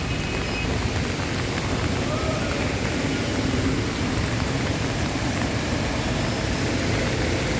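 Steady afternoon rain pours over flooded Taft Avenue beside Philippine General Hospital, a dense, constant hiss of drops striking water and pavement that fills the scene without pause.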